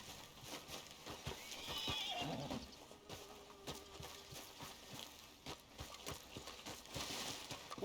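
A horse in the video game Red Dead Redemption 2 gives a single whinny near the start, while hooves clip-clop in a steady, fairly quiet rhythm throughout.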